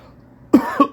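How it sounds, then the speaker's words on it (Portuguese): A woman coughs twice in quick succession, close and fairly loud, breaking a quiet pause in her talk during a lesson on IV glucose solution. "Desculpa, pessoal, deixa eu tossir aqui"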